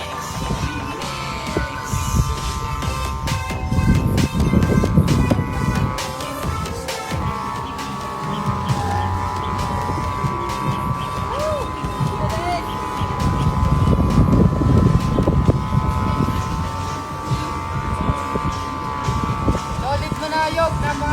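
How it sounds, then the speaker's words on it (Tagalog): Strong wind roars while a kite is flown in monsoon gusts outdoors, a steady broadband rumble buffeting the microphone throughout and swelling in louder surges, with a persistent droning tone over it. "Nagwawala talaga sa sobrang lakas ng hangin."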